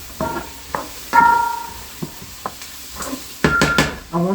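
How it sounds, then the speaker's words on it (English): Vegetables and tomatoes searing in a hot pan at high heat, with several short bursts of sizzling and stirring clatter spaced through, growing louder near the end. "And I have some tomatoes that we're going to throw in at the last minute and sear them at a nice high temperature as well."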